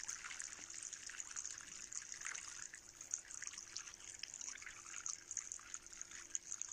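Water pours steadily in the Avatar World video game, a continuous bright trickling stream that runs unbroken for several seconds with small splashy flickers and no talk over it.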